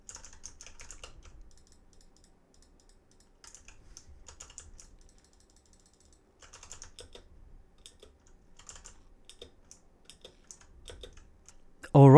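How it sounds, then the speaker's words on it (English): Bursts of clicky mechanical keyboard typing come and go, fairly quiet and close, with pauses of near-silence between them and a sharp thump at the very end. "this is again a clicky switch keyboard, which is very loud"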